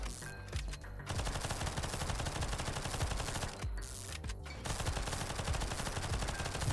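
Explosive bullets from an upgraded weapon in GunCraft Survivor rattle out in a dense, continuous stream of rapid gunfire and blasts, loud and unbroken apart from a couple of brief gaps.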